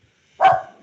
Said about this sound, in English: someone's got a dog